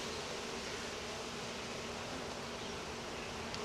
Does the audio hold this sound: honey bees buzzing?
yes